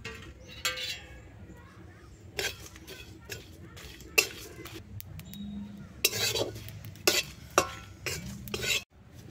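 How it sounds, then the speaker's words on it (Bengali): Whole spices dry-roast in a wok: panch phoron, cumin, fennel, three dried red chilies, two bay leaves and a piece of cinnamon. A spoon scrapes and clinks against the metal in irregular bursts over a faint background crackle. "ফুচকার মশলাটা ভাজা হয়ে গেছে"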